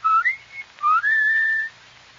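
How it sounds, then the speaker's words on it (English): A person gives a signaling whistle in a radio drama: two short rising chirps followed by a longer sustained whistled tone, clear and close with no talking over it. "I'll give her the old whistle so she'll know where we are."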